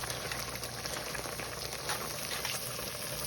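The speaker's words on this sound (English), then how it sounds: "My noodles over here cooking." Noodles cooking in a pot of boiling water on a home stove, a faint steady bubbling hiss, low and continuous with no talking.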